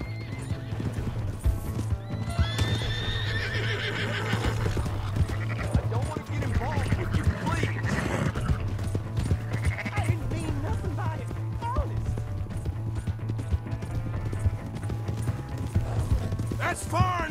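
Horse hooves clip-clop steadily throughout a Red Dead Redemption 2 game scene, with whinnies and neighs breaking through and voices talking over the animal sounds.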